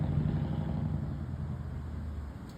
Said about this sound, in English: Truck sounds so good.